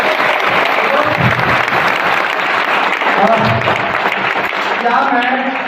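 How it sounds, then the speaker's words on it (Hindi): Audience at a business presentation applauding loudly, a sustained wash of dense clapping with a few voices mixed in, nearby and steady throughout. "जोरदार तालियां"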